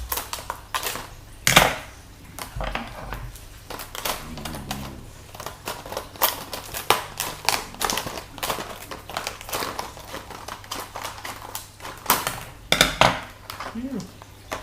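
AFX slot car packaging being slit open with a blade along its side, a series of sharp plastic crackles, clicks and crinkles in irregular bursts, close by, with someone talking at points in between.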